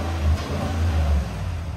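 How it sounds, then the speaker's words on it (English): Exhaust of a new Cadillac Escalade revving inside an echoing garage bay: a deep, throaty engine note rising in a couple of short blips, close and fairly loud, no talk over it. "we're just gonna show you what the exhaust is made of on the new Escalade. A lot more throaty."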